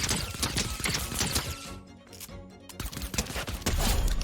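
SMG fire in Fortnite Chapter 4 while the player strafes, aimed at a target 45 meters away. Rapid, loud bursts of shots run almost continuously, with one short pause midway.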